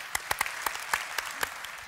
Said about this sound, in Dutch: Mag ook altijd nog een applaus voor krijgen